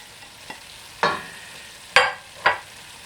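Carrots and blitzed mushrooms frying in a pan, with a faint scrape and then three distinct stirring sizzle bursts at even intervals over a quiet background.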